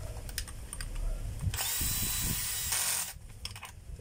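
A power drill drives screws to close up a motor housing during armature and field coil work, with a steady whine of about a second and a half after light handling clatter and before a few taps.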